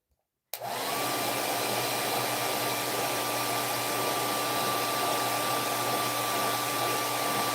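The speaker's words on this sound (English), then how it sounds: "I gotta wait till I finish drying this, trying to dry this first, so you can hear me" A hair dryer switches on after brief silence and runs at a loud, steady whoosh with a constant whine, drying something close by, no talk.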